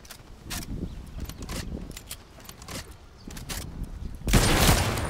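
Gunfire crackles through a video game shootout, scattered sharp shots in irregular bursts before a loud, sustained volley closes it out.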